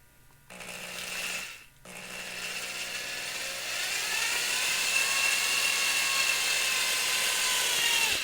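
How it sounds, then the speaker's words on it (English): A power drill whines as it bores holes through 2010 Suzuki RMZ dirt bike plastic, starting with a short burst, pausing briefly, then running steadily with the motor pitch climbing as it cuts through. "I'm going to have to kind of come in from the edge right there, and then I'll rotate the drill up."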